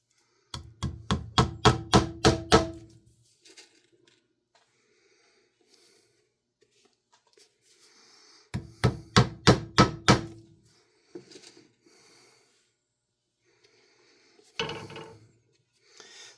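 Rapid bursts of sharp hammer taps drive nails into a leather boot on a last, two quick rhythmic runs of about eight strikes each separated by quiet, then a few scattered knocks.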